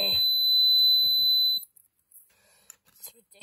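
A smoke detector shrills with a steady, piercing high tone for about a second and a half, then cuts off, leaving faint voices and quiet room noise.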